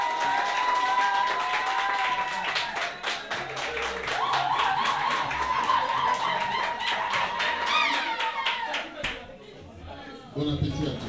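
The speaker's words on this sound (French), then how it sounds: "Est-ce qu'il y a moyen d'applaudir un tout petit peu" Audience at an evening event applauding briefly, a dense patter of claps mixed with crowd chatter and laughter, with voices talking throughout before the applause fades near the end.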